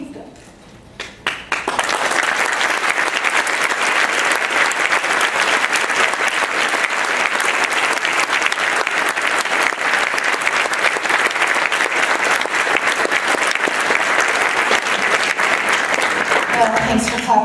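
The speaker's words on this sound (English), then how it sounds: "Well, thanks for clapping." An audience at an award ceremony breaks into loud, sustained applause that swells quickly and holds steady for a long stretch, a dense wash of many hands clapping with some crowd noise mixed in.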